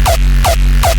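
Three punchy hardstyle kick drums, the second kick variant in a remix of the sea shanty Santiano, land at an even pace, each with a sharp click and a pitched tonal tail over a sustained low bass drone.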